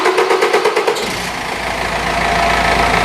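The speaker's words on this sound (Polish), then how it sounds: "Troszkę może pokręcić silnik." A BMW E46 2.0 diesel engine cranks with rapid rhythmic pulses for about a second, then catches and settles into a loud, steady rumbling idle.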